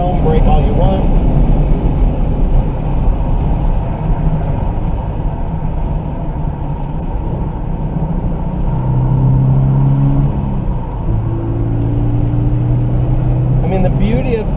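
A 2013 Scion FR-S runs on a race track, its engine droning steadily and then rising through gear changes, heard from inside the car under continuous talk.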